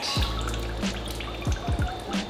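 Coolant dripping and splashing from a Mazda RX7 during a restoration, a handful of distinct close drips and small splats over a steady background hum.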